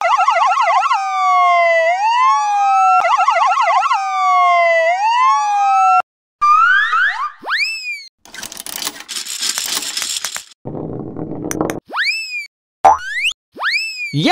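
An ambulance siren rises and falls for several seconds, then gives way to a rapid string of cartoonish boings, whooshes and zany sound effects.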